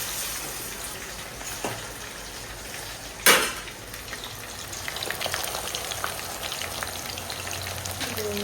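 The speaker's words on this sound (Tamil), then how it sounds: "இப்போ இது நல்லா ஃப்ரை பண்ணி எடுத்தால் வேலை முடிஞ்சுது" Food frying in a pan for a home-cooked meat feast, a steady broadband sizzle running throughout, with a sharp utensil clatter near the middle and a brief knock earlier.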